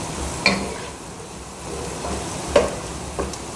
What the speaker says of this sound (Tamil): அப்படியே 2 நிமிஷம் வதக்கிட்டுருக்கலாங்க